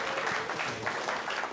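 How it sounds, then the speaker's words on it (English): Lecture audience applauding an inventor being introduced, a brief, steady wash of clapping from a moderate crowd. "Shall we give him a clap?"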